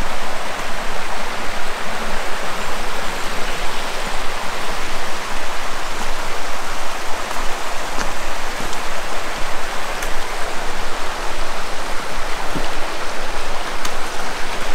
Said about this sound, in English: There's a creek down there.